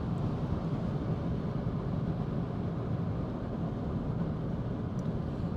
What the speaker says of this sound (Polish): tak to tylko słyszę delikatnie powietrze opływające samochód